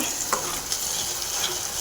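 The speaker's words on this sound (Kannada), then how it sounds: "ಒಂದ್ಸಲ ಮಿಕ್ಸ್ ಮಾಡೋಣ" Masala gravy for cashew paneer masala being stirred in a pan, a steady soft sizzle with light scraping strokes of a spoon, close and continuous.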